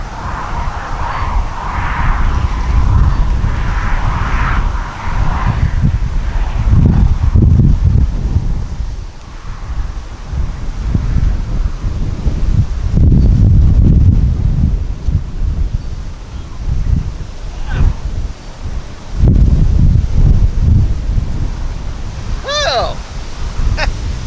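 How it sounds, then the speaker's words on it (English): Strong gusty wind buffets the microphone at an outdoor RC model airplane field, roaring in loud waves with rustling, while someone talks intermittently over it. "That wind's crazy."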